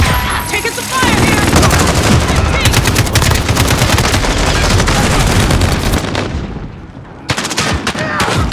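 Dense, continuous gunfire from the Call of Duty video game, rapid automatic bursts and heavy shots layered close and loud throughout, with a brief dip near the end before firing resumes, with voices mixed in.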